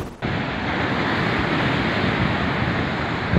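Heavy surf driven by Typhoon Marce pounds a seawall at Pagudpud, Ilocos Norte, a loud continuous roar of crashing water with gusting wind buffeting the microphone.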